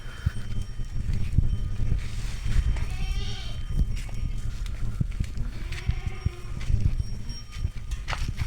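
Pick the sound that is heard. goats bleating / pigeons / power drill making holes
goats bleating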